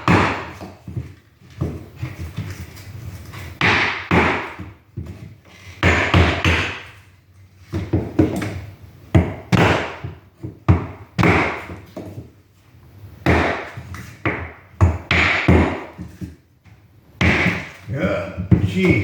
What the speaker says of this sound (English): Take a hammer and a block of wood.